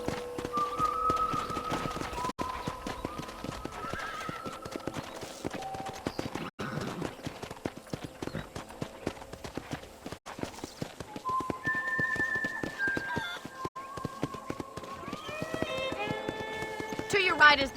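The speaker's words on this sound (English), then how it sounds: "let's see if you can still ride a horse" Horse hooves clip-clopping at a steady riding pace in the Red Dead Redemption video game, a continuous rhythmic clatter running under a voice and background music.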